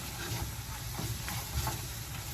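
Flour and onions browning in a pan, a low steady sizzle with soft scraping as a spoon stirs them, close and fairly quiet with no talking.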